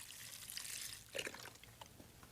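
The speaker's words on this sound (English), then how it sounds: "we toss in some diced onion and garlic, vegetable broth," Vegetable broth is poured into a slow cooker over beans, diced onion and garlic, making a soft, steady liquid trickle with a few splashy bursts, faint and close.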